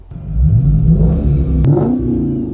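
A Mercedes SL500 with a 5.0 engine, fitted with an AMG exhaust, revs loudly up close, the note rising and holding with a brief sharp click midway.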